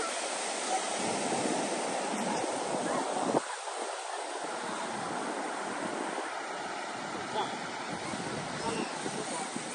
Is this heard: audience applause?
no